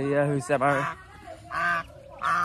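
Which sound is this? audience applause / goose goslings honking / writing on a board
goose goslings honking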